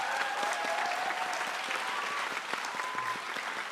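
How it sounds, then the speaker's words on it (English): Applause for class 5S at a Grade 5 promotion ceremony, a sustained, even roar of many hands clapping from a sizeable seated audience, moderately distant and unbroken throughout. "Let's give 5S a round of applause"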